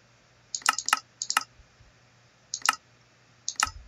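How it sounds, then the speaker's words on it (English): Menu button clicks in Minecraft: a handful of sharp, dry clicks in irregular small clusters separated by quiet pauses, crisp and close against a faint background hum. "I'm gonna click that delete button."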